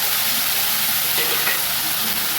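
Vegetables with turmeric fry in hot oil while being stirred, giving a loud, steady, close-up sizzle with no voices.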